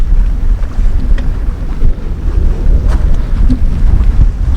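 Strong wind buffets across an open lakeside carp fishery, a loud, continuous gusty roar rumbling against the microphone with no voices.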